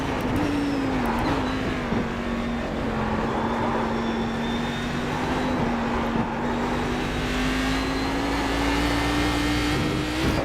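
Race car engine circling Monza in the iRacing sim, a sustained loud whine holding near one pitch with slight rises and dips as the car carries speed, no talk over it.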